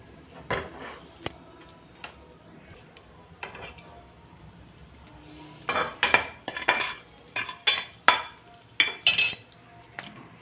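Bay leaf dropped into hot oil in a pan just emptied of potatoes, for a spiced potato gravy (dum aloo); faint sizzling under repeated scraping and stirring clatter from a spoon against the pan, busier in the second half.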